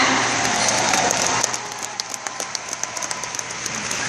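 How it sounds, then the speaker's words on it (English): A studio audience applauds, a dense, rain-like wash of clapping that thins after a second and a half into scattered individual claps. "you can clap for that."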